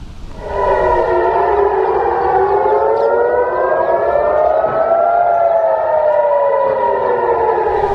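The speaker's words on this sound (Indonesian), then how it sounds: "Sirena meraung saat Israel dan Iran saling serang untuk pertama kalinya sejak gencatan senjata." Air raid sirens wail across Jerusalem during an Israel–Iran exchange of strikes, several loud overlapping tones rising and falling together in a steady, continuous chorus with no talk.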